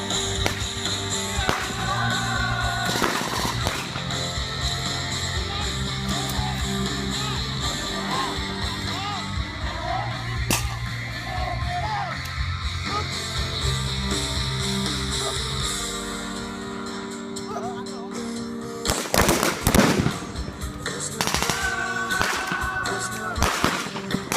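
Rapid bursts of gunfire during a military patrol demonstration put on for new soldiers' relatives, with sharp cracks standing out over a steady, noisy outdoor background and a dense cluster of shots near the end.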